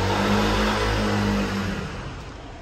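A Bugatti Chiron Super Sport 300+ engine rumbles loudly up close in a parking area in Monaco, a deep steady drone that fades off toward the end.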